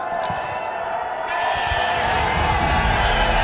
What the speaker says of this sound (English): all the Zalmi fans over here love you. They've been cheering for you